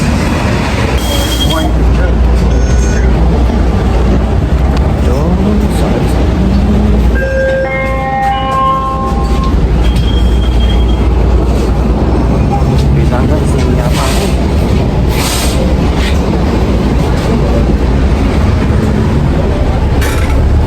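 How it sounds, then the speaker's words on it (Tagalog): A Canadian city bus rumbles loudly along, with a steady engine drone, rattling, and a brief squeal of brakes partway through, while a person talks over it. "Ito na yung bus."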